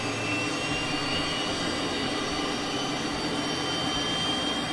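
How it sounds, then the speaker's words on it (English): Cessna T-37B Tweet jet engine running after ignition in Microsoft Flight Simulator, a loud, steady, broadband roar with a high whine held throughout. "right engine has ignited. Well, that is loud."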